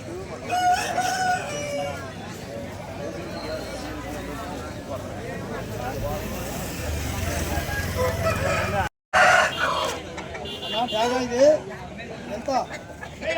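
Native country roosters crow repeatedly at a busy Sunday poultry market in Vijayawada, several calls near and far with clucking over a babble of crowd chatter and nearby talk.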